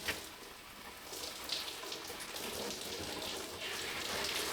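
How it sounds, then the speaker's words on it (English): Shower water rinsing conditioner out of long natural hair, a steady close hiss of spray and splashing with soft fluctuations, no talking. "And just rinse out all that conditioner."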